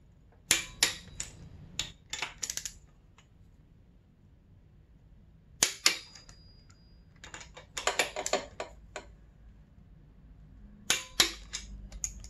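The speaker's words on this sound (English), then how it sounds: "The head bolt, the head nuts, get torqued to 29 foot-pounds, and you go in three steps" A torque wrench tightening the cylinder head nuts on a 2006 Honda CRF250R gives sharp, close clicks in separate bursts with pauses between them.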